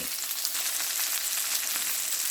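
Salmon fries in a skillet for garlic butter lemon salmon, a dense, steady sizzle and crackle that holds at an even level throughout, heard close and without speech.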